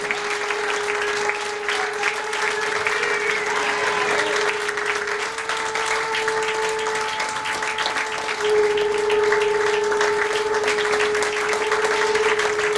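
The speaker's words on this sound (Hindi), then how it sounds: "तालियां बजती रहनी चाहिए पीछे से भी।" Prolonged applause from a large audience at a celebration, steady dense clapping throughout with a faint tonal drone beneath, swelling slightly louder near the end.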